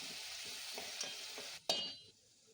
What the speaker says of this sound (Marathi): त्यात पेस्ट केलेला कांदा टाकून व्यवस्थित परतून घेतलेला आहे